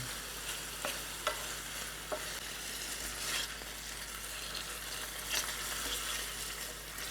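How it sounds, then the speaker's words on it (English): Chicken pieces brown in a pot for one-pot chicken fettuccine Alfredo, giving a steady close sizzle and frying hiss throughout, with a few soft stirring clicks and scrapes, no voices. "we do want it good and brown"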